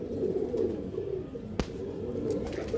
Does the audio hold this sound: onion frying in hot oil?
no